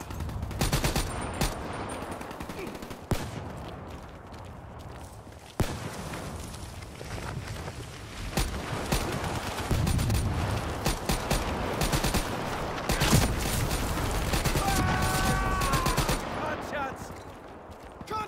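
Gunfire in the video game Call of Duty: Black Ops 3, with sustained bursts of machine gun fire and scattered gunshots under continuous battle noise, with voices in the mix.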